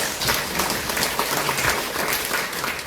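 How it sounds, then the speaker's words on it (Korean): An audience applauds at a book publication celebration and saxophone concert, with dense, steady clapping from a crowded room filling the whole moment at a loud, even level. "우리 김동영 의원님께 다시 한번 큰 박수를 부탁드립니다"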